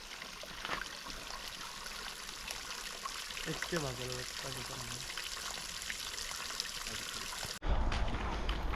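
Water trickles and flows steadily outdoors at a spot on a road trip through Estonia, a constant soft wash close by while people talk over it.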